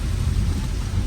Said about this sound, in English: Rain and more rain, a lot of rain.